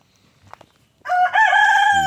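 Backyard chickens in a Central Florida food forest, faint clucks and rustling first, then a rooster lets out one loud, close cock-a-doodle-doo crow.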